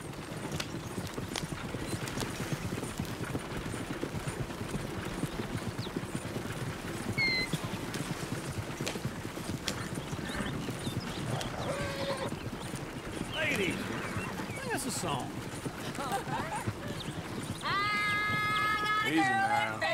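Horse hooves clip-clop at a riding pace in a video game, a steady run of soft hoofbeats under continuous talk, with brief whinny-like calls and a burst of tonal game sound near the end.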